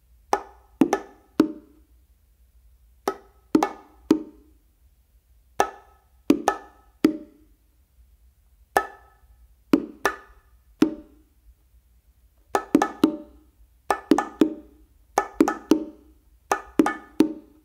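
Bongos played in a combination of flammed open tones and muffled strokes on the macho and hembra, sharp doubled hits in short clustered phrases separated by brief pauses, close and clear with no talking.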